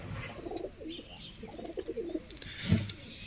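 Soft pigeon coos murmur in the background amid faint rustling and ambient noise, with a slightly louder burst near the end.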